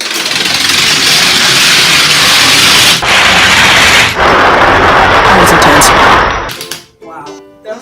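A 1,925-domino lightning run topples in one loud continuous clattering rush lasting about six seconds, with two brief dips, before it cuts off into a few scattered clicks and quiet.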